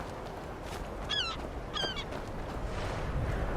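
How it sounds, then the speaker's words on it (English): Two short squawking seabird calls ring out in Skyrim over a steady windy wash, each a quick descending cry about a second apart, moderately distant and faint. "Seagulls."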